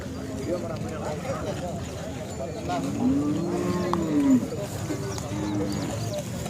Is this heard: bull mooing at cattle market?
yes